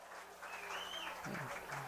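Grandstand crowd at a small-town baseball game, the Edenton Steamers at home against the Greenbrier Knights, breaking into distant, faint clapping and cheering that swells after a strike, with a brief nearby voice over it.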